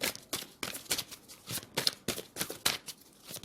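Tarot cards shuffled and one drawn from the deck, producing a quick run of about a dozen crisp, papery flicks and riffles close by, alone with no voice.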